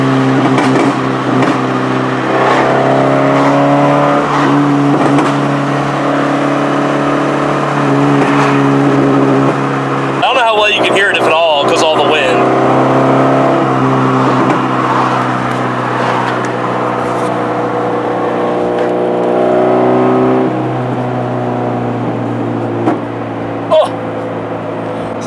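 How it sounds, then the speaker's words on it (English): A car engine idles steadily at close range for about 25 seconds, a constant low hum with a brief blip of higher revs midway, alone with no talking. "we'll let the car idle out"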